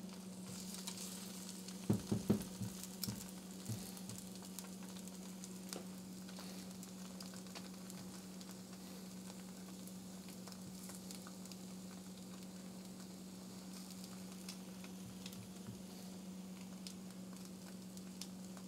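Eggs frying in a hot pan already used for cooking seeds and apple, a steady sizzle running throughout with a few brief clattery stirs near the start, no voices.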